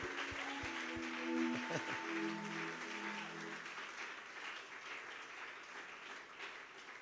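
A church congregation at the Episkope 2021 service applauds, a soft, steady patter of many hands heard from a distance, with a brief sustained musical tone under the first few seconds.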